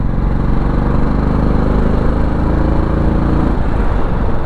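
A motorcycle with an aftermarket silencer exhaust runs steadily with a deep, throbbing exhaust note, loud and close, with no voices.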